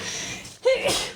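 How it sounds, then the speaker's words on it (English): A single person's sneeze, starting with a quick sharp intake of breath and breaking into one close, fairly loud burst that trails off briefly. "Okay, so I'm gonna sneeze."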